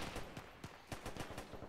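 Rifle gunfire in a staged combat exercise cracks out in a rapid irregular string of about ten sharp reports over under two seconds, fairly loud and close.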